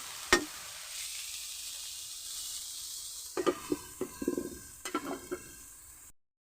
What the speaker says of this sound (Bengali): শাকটা আমি ভালো করে নেড়ে চেড়ে ঢাকনা দিয়ে দিচ্ছি